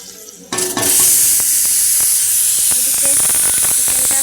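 Hot water poured into a pan of spice masala for chicken sets off a sudden loud, steady sizzle and hiss that runs on after the splash, with a few spoon clinks over it.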